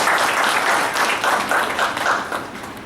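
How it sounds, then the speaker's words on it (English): Audience applause fills a university leadership conclave hall, a dense, steady wash of many hands clapping continuously at high volume for several seconds. "Can we have a huge round of applause,"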